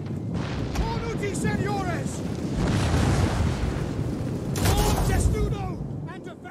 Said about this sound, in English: Thankfully their artillery is firing at like maximum range.